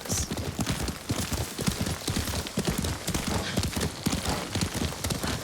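Horse hooves clip-clop steadily while riding in the video game Ghost of Tsushima, a close, loud, even trot with a brief whinny, with no voices over it.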